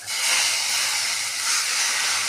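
Washed fenugreek leaves go into a hot pan with browned onion pieces for a potato masala curry, giving a loud, steady hiss of sizzling that holds without a break, with no one talking.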